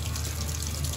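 Water runs and overflows in a steady, close wash of splashing and gushing liquid, unbroken for the whole moment.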